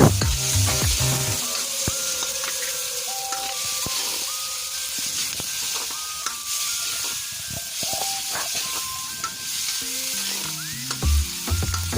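Onion and tomatoes sauté in a pan with a continuous, moderately loud sizzle and hiss, broken by occasional stirring scrapes and clinks.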